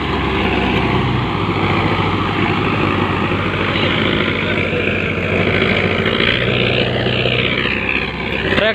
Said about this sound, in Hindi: दो दो ट्रैक्टर प्लाव कर रहे हैं